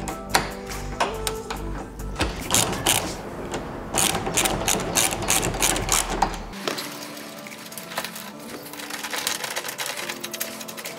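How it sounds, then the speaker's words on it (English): A ratchet wrench clicks in rapid bursts, backing the two ROPS bolts out of a Yamaha Rmax utility vehicle's frame. A low hum runs underneath and then cuts out, leaving quieter scattered clicks. "first steps to fitting the side rails or fender protection is removing the two ROPS bolts from the frame"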